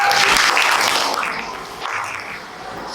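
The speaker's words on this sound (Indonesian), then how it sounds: "kita beri tepuk tangan ya untuk" Applause from a classroom audience after a student group's presentation, a dense broadband patter that is loudest at the start and then thins and fades somewhat, with no talk over it.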